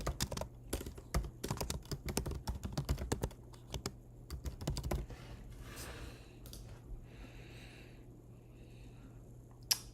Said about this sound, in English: I'm just typing in my info here.